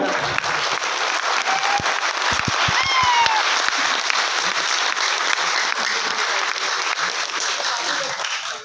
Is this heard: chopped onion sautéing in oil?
no